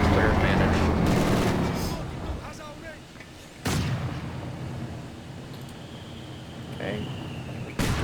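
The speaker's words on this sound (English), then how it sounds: "I use my Grenadiers to focus fire on that tank gun" Grenadier infantry fire on a tank gun in the strategy game Company of Heroes 2, with loud booming battle shots and rattling gunfire, two sharp blasts standing out, while someone talks over the combat.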